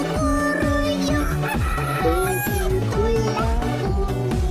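A rooster crows within a bouncy children's song about farm animals, its call riding over a steady musical beat and melody.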